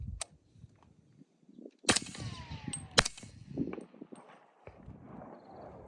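Two sharp reports of a 220 grain subsonic load fired through a Surefire SOCOM300 SPS suppressor, outdoors, with quieter clanks and rustling between the shots.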